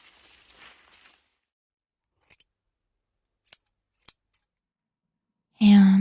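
Scissors trim flower stems in a quiet room: a few soft, sparse snips spaced out over several seconds, followed by a person starting to speak at the end.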